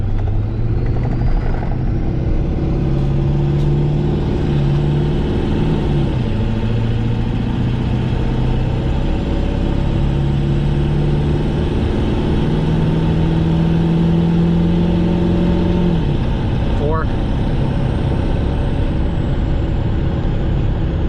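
Steady car engine drone with rising and falling gear tones while driving on a highway, a vehicle being tested for boost leaks; loud continuous road and engine noise with no talk.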